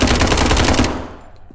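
Rapid automatic gunfire from a gun in the video game Pandemic SCP rattles in a loud, dense burst of close shots before cutting off and fading.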